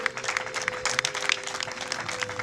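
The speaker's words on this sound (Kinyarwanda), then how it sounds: "amashyi menshi n'impundu" Wedding guests applaud at a celebration, a dense steady wash of clapping lasting the whole moment, with the high trilling of ululation mixed in.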